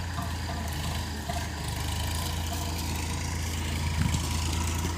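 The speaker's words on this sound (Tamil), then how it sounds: "ஸோ ட்ரக் வண்டி வந்துருச்சு." A truck engine idles steadily at a cassava harvest site, a constant low rumble that holds at an even level throughout, with no talk over it.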